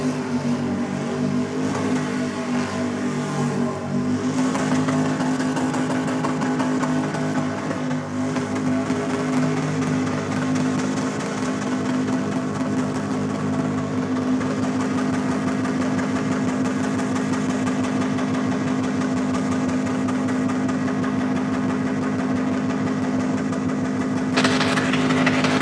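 Engine of a Holden Commodore race car in the modified class, a steady loud droning note held for about twenty-five seconds with little variation, close and alone without talk.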